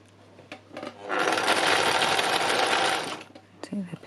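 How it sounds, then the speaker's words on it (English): A sewing machine runs a zigzag stitch around fabric for free machine embroidery, a loud close whirring run of about two seconds framed by light handling clicks, with a voice speaking around it. "I'm just going to do a zigzag around it to hold it in place."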